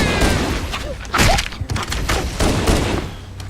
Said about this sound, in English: the explosion radius in the grenades in here are bigger as well